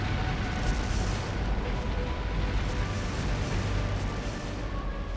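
Explosive artifacts detonate around a palace in the video game Trails Through Daybreak, a dense, continuous rumble of booms and bursts that stays loud throughout without a break.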